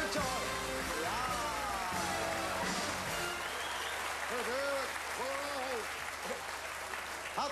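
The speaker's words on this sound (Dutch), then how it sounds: "we geven hem een geweldig applaus" Audience applause at a Dutch television revue game show, a dense, continuous wash of clapping that fills the room throughout, with a voice speaking over it in the later part.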